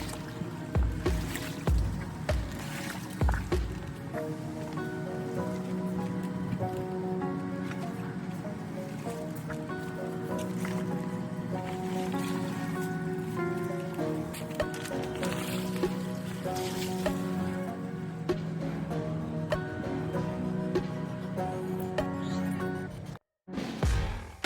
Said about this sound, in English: I held the base of the pool at an angle and I just pulled it until the water was released out of the pool